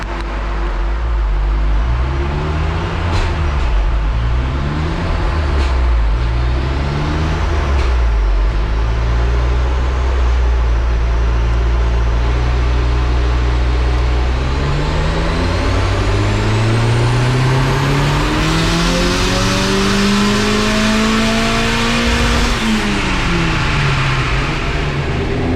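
Van engine on a dyno during a power run after mapping with a new inlet, revving loudly and close in repeated rising and falling sweeps, then a long steady climb to a high pitch before dropping away.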